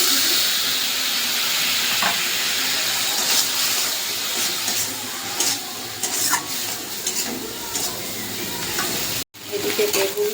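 A little water goes into a frying pan of vegetables seasoned with turmeric and salt. It sets off a loud, continuous sizzle with stirring scrapes, briefly cut off near the end before the sizzling resumes.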